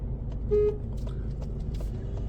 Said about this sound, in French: Voilà, elle a klaxonné.